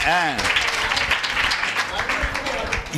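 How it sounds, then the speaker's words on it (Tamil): An audience claps steadily through the whole stretch, with a speaking voice over the applause at the start. "காசா பணமா நல்லா கைதட்டுங்களேன்"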